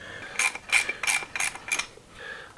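A hand ratchet clicks through five quick bursts while removing the oil tank lines from a chopper motorcycle during a teardown, each burst a sharp metallic ratcheting near and loud, followed by a softer scrape.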